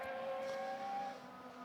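Race car engine circling the Imola circuit during a six-hour endurance event, a sustained moderately loud tonal drone with steady harmonic whine, no voices over it.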